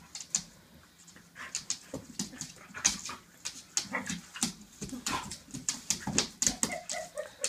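An adult border collie and an eight-week-old border collie puppy play together, giving repeated close growls, yips and whimpers with panting between them, steady and lively throughout with no talk.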